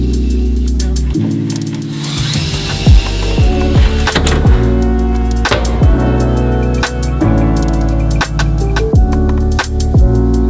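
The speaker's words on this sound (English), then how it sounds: "drilled a hole so I could attach them" Cabinet knobs being fitted during a kitchen makeover, with a burst of drilling followed by clicking, ratcheting tool sounds and sharp knocks of hardware being fastened, close and fairly loud throughout.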